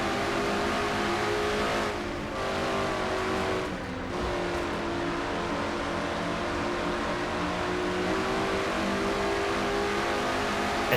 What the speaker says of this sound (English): Now riding with Seth Cole in the roof cam of his Pontiac.